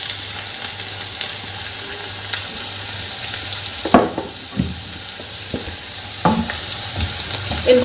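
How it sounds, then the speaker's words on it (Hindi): Onion, French beans, carrot and capsicum sauté for veg fried rice in a hot pan, a loud continuous sizzle broken by a few scraping stirs of the spatula. "इनको डाल के थोड़ी देर लगभग 1 मिनट के लिए हम इसे अच्छे से सौते कर लेंगे।"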